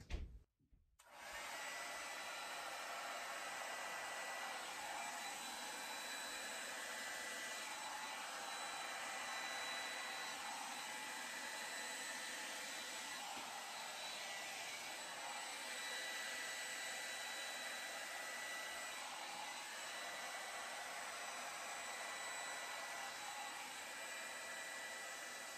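A hair dryer or air blower runs steadily over an acrylic Dutch pour painting to push the paint, a loud continuous rushing whoosh that starts abruptly and holds for the whole stretch without talk.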